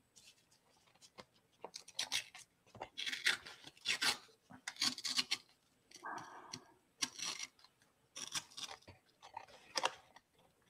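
Cutter Bee scissors snipping through paper in a series of short, crisp cuts with small pauses between them, close and fairly quiet, with no talking.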